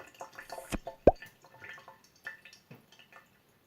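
Water dripping and splashing from a small DIY geocache tube as it is tested for watertightness, with a few distinct drips and plops close by, one louder splash near the middle, then fainter trickling.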